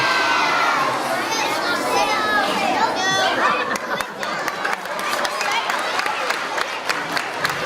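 Schoolchildren at an all-school meeting let out a loud, close group cheer of shrill shouting, which breaks into scattered clapping and crowd noise.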